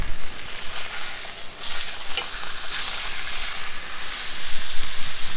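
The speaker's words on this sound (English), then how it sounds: "we're going to sear the sides" A pot roast sears in a hot pan, giving a loud, continuous sizzle and frying hiss with faint stirring scrapes throughout, no voices over it.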